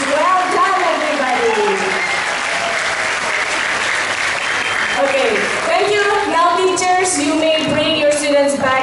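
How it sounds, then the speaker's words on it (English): Sustained loud applause from the audience at a school assembly for the PYP2 students, steady dense clapping filling the room while voices carry over it. "can we please give all the PYP2 students one more round of applause"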